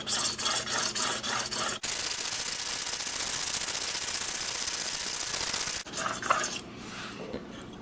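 Muzzy Trocar broadhead scraped back and forth across an 800-grit sharpening plate, a steady close rasping rub with a brief rhythmic stroking at the start and again near the end.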